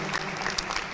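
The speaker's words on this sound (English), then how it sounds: "We'll clap for those people who did a lot of best things to our country" Audience at a green conference in Colombo claps in a brief burst of applause, close and moderately loud, with no talk.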